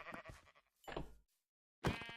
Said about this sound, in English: So it helps that there are sheep here.